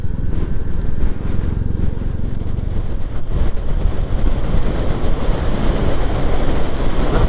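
Strong wind buffets the microphone high in the Pennines, a loud, continuous roar with gusty surges and no talk, heard during a ride on a Royal Enfield Classic 350 motorcycle.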